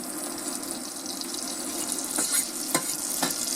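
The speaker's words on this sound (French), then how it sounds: "Donc là, je vais mettre à peu près 30 g de beurre." About 30 grams of butter melting in a pan as the base of a roux for ficelles picardes, a soft steady sizzle with a few sharp clicks and clinks of utensils near the end.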